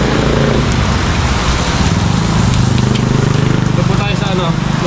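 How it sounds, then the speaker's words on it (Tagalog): A sudden heavy rain downpour in a rural Philippine farm setting roars as a dense, steady wash of drumming drops, loud and continuous, with voices talking beneath it. "Biglang buhos ko mga kasama."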